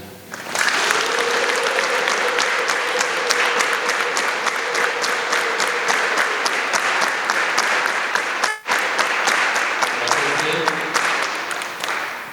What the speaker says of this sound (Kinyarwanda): tubanze duhe amashyi n'impundu Imana yadukoranyirije hano